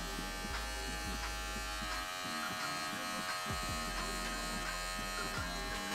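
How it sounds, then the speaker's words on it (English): Electric hair clippers buzz steadily and close up while lining up the back of a neck during a home self-haircut, a continuous motor hum with small shifts in pitch as the blade corners move against the hair. "I'm gonna demonstrate how to line up the back of your neck just with your clipper"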